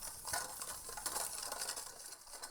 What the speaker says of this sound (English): Yeah, just whisk.